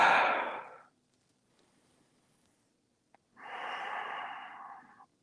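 During a yoga flow, two long, audible exhales come through the nose and mouth, close and breathy, separated by a quiet pause with a faint click, and no talking over them.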